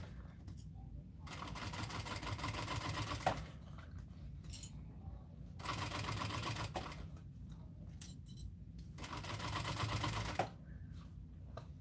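A sewing machine stitches bag fabric in three steady bursts of rapid mechanical whirring, separated by short pauses with small clicks and rustling as the material is repositioned.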